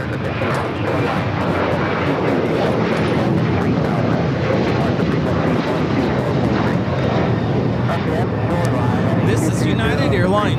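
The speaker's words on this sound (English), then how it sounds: "This is United Airlines 2667 taking off to Washington Dulles on the 737-900ER" A United Airlines Boeing 737-900ER taking off from LAX for Washington Dulles produces a loud, continuous, full-bodied engine roar that stays strong across the whole span.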